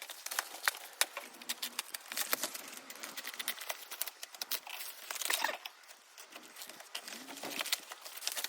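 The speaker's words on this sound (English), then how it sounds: "Let's unwrap it." Plastic packaging being unwrapped from a set of Ford Ranger bull bars, a close, continuous run of crinkling, rustling and tearing with no talk.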